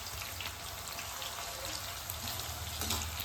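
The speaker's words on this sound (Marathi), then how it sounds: "आपण इकडे तेल तापवायला ठेवलं आहे आणि आपण जे कट केलेले चिप्स आहेत ते टाकतोय" Raw banana chips frying in hot oil, a soft continuous bubbling sizzle heard faintly from nearby, steady throughout with no speech.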